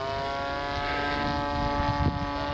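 An F4F-3 Wildcat model airplane on its maiden flight at an RC airfield, flying with landing gear down. Its engine gives a steady, loud propeller drone with a constant harmonic whine throughout and no talk.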